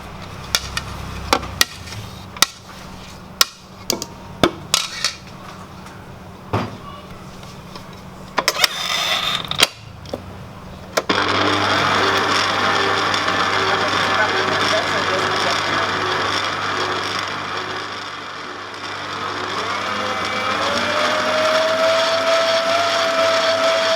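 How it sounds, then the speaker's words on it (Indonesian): Electric hand mixer beating lapis legit cake batter in a bowl, a steady continuous whir running for about thirteen seconds after a stretch of scattered knocks and clatter, with voices faintly in the background. "lalu kita kocok lagi sebentar"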